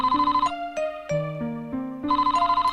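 A chiptune telephone ringtone from the Famicom Detective Club Part II video game plays as a bright, bouncy electronic melody, repeating in short rhythmic bursts with a brief calmer phrase between them, loud and clear with no talk.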